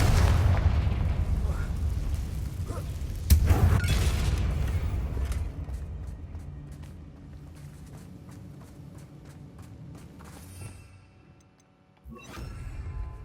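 Confringo fire spell in the Hogwarts Legacy video game blasting a damaged bridge, heard as a heavy boom with crackling debris followed by a long rumbling, clattering tail that fades before a brief renewed burst.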